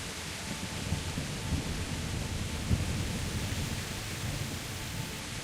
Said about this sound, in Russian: А что дождь-то будет кончаться?